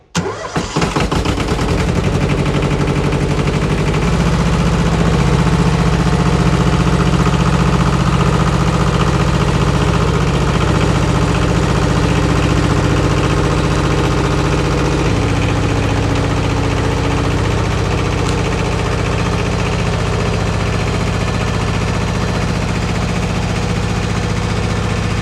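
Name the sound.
Yanmar tractor engine running after rebuild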